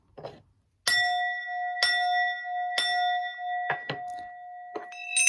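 A bell rings in several distinct, resonant strikes, each one sustaining a clear ringing tone, followed by a few quicker, lighter dings near the end.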